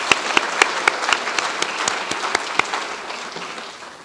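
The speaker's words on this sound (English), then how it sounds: "Please give her a round of applause." A round of applause from the audience at a UCLA nursing Blue and Gold ceremony: several sharp, close claps stand out over a wash of crowd clapping that gradually fades over about four seconds.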